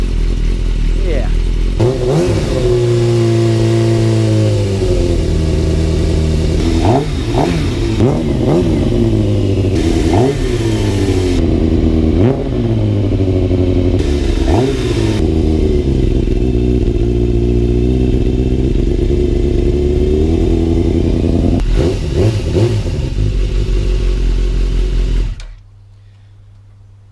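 A Yamaha YZF 600 Thundercat motorcycle engine warming up, idling loud and close with repeated throttle blips rising and falling in pitch, steady mechanical clatter underneath until it cuts off abruptly near the end.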